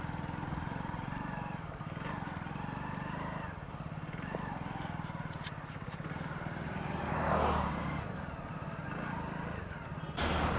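A brand-new motorcycle with only about one kilometre on it idles steadily nearby, a continuous low engine rumble that holds for the whole stretch, swelling briefly toward the end, with no talk over it.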